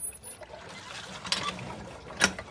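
A hand water pump being worked to draw water from a deep well, giving creaky mechanical clanks and squeaks in a couple of strokes, fairly close, with no talk.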